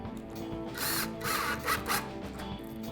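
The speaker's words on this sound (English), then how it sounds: "you are only screwing into Durarock here, so it's easy does it." Power drill driving number 10 by 5/8 inch screws into Durarock cement board for a concrete countertop form, heard as a steady close whir with a few brief louder surges.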